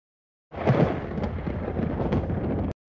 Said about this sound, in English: When you see a flash of lightning, start counting until you hear the thunder.